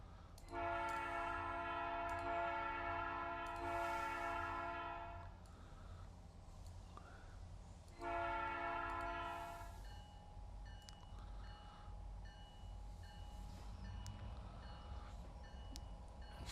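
Train in the Trainz simulator backing up: two long, loud bursts of a steady multi-tone horn or warning signal over a constant low rumble, followed by continued engine drone.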